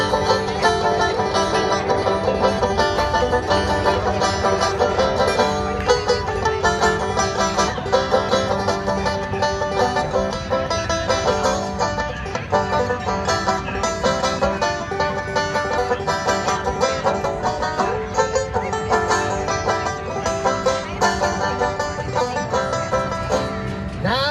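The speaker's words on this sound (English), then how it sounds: "claw hammer banjo you hit down on the strings." Busy, steady clawhammer-style five-string banjo playing, striking down on the strings with a bright, driving rhythm, played continuously and up close alongside other strings, with no one talking.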